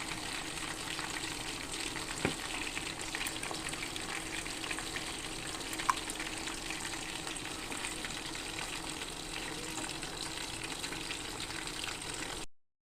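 Chicken pakoda frying in hot oil, a steady close sizzle and bubbling crackle running evenly throughout, alone with no voices.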